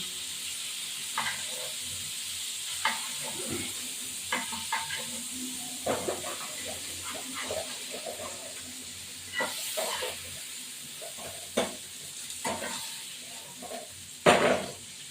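Prawns frying in oil in a pan for a Bengali prawn malai curry, a steady close hiss and sizzle with occasional clinks and scrapes of stirring.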